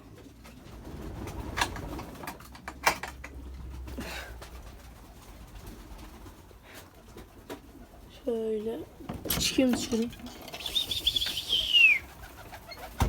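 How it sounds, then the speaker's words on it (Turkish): Mardin pigeons in a loft, with soft cooing and bursts of wing flapping near the end, heard under steady conversational speech and some handling noise. "Benim kuşlar burada."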